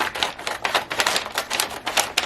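Christmas gift wrapping paper being cut with rapid, repeated crisp snips and rustles, close and loud, with no talking.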